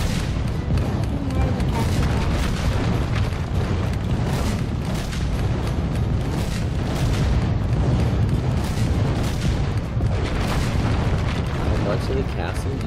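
Dense, continuous booming and rumbling of cannon fire with overlapping blasts, loud and chaotic, with voices partly buried in the din, from the video game Skylanders: Spyro's Adventure, Pirate Seas level.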